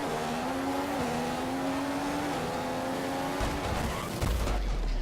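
A Formula 1 racing game car, a Marussia at the Chinese Grand Prix, whines steadily at high revs before a harsh crunching collision with Maldonado's car erupts near the end, followed by scraping noise.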